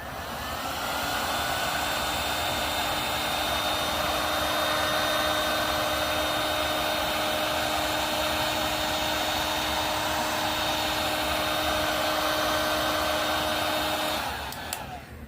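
A heat gun blows hot air to lift epoxy off the back of a project, a steady, loud, unbroken rushing roar with a faint whine that runs for about fourteen seconds and then cuts off.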